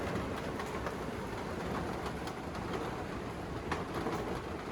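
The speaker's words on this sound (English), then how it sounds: "Yep, this is what it's like in a caravan. It's raining." Steady rain drums on the roof of a caravan, a dense continuous patter that fills the space evenly with no voices.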